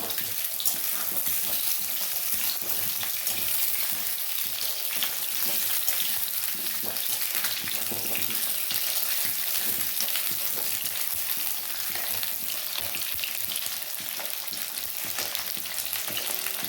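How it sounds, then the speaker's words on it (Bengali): Potatoes frying in hot oil in a pan while being stirred, a loud dense continuous sizzle with occasional scrapes of the spatula, close and steady, with no voices. "আলু দিয়ে দিয়েছি আলুটা দিয়ে এবার নাড়িয়ে দেবো"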